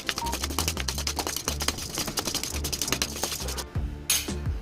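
A metal spoon clinks and scrapes in a kadhai as dal is roasted for sesame laddoos, with busy, repeated tapping over steady background music.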